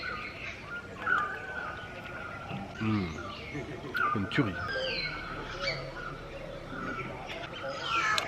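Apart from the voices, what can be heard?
birds singing near a café in nature, Sri Lanka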